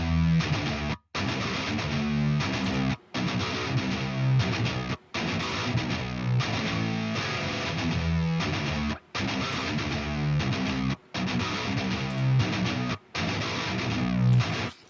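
An Odin III MIDI guitar synth plays a driven, distorted riff with a white-noise effect added to each pick attack, loud and continuous, broken by brief silent gaps every couple of seconds.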